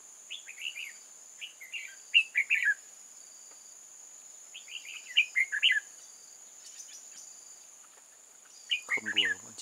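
Red-whiskered bulbuls call in wild mountain forest: three bursts of quick, bright chirping phrases spaced a few seconds apart, moderately near, over a steady high whine of insects and a faint low sound at the end.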